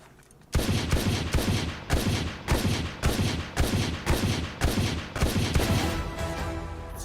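Rapid gunfire in a shooting video game: about a dozen loud, evenly spaced shots ring out in a steady rhythm, each with a short ringing tail, and no voices are heard.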